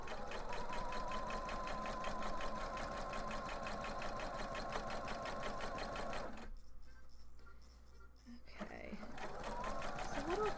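A sewing machine stitching fabric nearby, a steady rapid mechanical whir and needle clatter that runs continuously, stops briefly for about two seconds, then starts up again.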